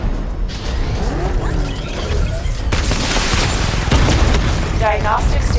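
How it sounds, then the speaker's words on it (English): Batmobile missile barrage in Batman: Arkham Knight, loud booming explosions and mechanical clatter rolling continuously, with a synthetic voice speaking over the blasts. "Missile barrage level 2 ready."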